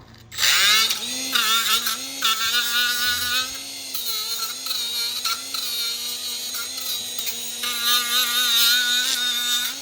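A small abrasive disc on a power tool grinds rust off a Hyundai Elantra brake caliper bracket where the shims sit, a loud, steady high-pitched whine with tones that shift as it bears on the metal.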